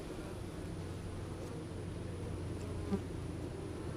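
Honey bees fanning at the entrance of a hive of reoriented swarm bees make a dense, continuous buzzing hum, close and even throughout, with no talking.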